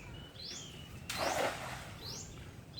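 A bird sings in trees outdoors, giving a few faint rising chirps spread across the moment, with a brief burst of rustling noise in the middle.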